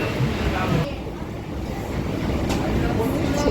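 A local suburban train rumbles steadily with loud wheel and carriage noise throughout, riding in a nearly empty ladies' compartment, with a brief rattle near the end.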